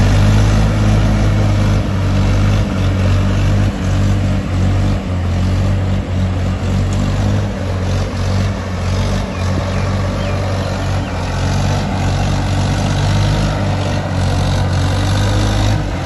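A tractor's heavy diesel engine runs steadily at a low rumble throughout in a field, close and loud, with no break in the drone.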